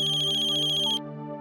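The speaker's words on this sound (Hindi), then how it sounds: "मीनू का फोन है। तो उठा लेना।" A mobile phone ringtone for an incoming call plays as a steady, repeating electronic melody, loud and close, running alone for about a second before cutting off, leaving a quieter tonal hum.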